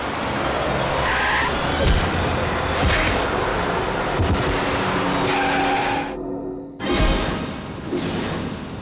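A fast-driven car skids with repeated loud tire screeches and engine roar, followed by an abrupt sharp impact and a brief silence, then more noise, all close and prominent with no talking.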